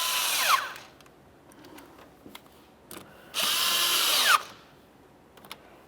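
A power tool snugs intake hose clamps in two short whirring bursts, the first under a second and the second about a second long, with light clicks and handling noise between them, close by.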